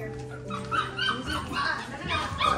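A young puppy in a kennel whimpers and yips in short high bursts at close range, with people's voices talking alongside.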